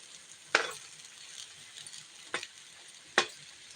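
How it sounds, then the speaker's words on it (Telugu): Raw plantain pieces fry in a pan with a soft, steady sizzle, broken by three sharp clinks of a utensil against the pan. "అరటికాయ ఇదైతే అరటికాయ ఫ్రై అవుతుంది"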